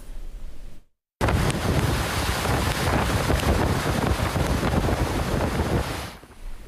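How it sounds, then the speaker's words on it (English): Floodwater from a flash flood rushes hard through a channel it is carving in the desert floor near Palm Springs during Tropical Storm Hilary's heavy rain, a loud, steady roar with wind noise on the microphone and a brief cut near the start. "that is the sound of water rushing, carving this path through the desert floor"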